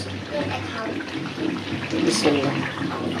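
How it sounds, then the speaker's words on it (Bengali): Water is poured into a pot of chicken curry, a continuous gurgling splash close by, with a voice talking faintly underneath. "এখন আমি জল দিয়ে দেবো, পরে আলু দেবো।"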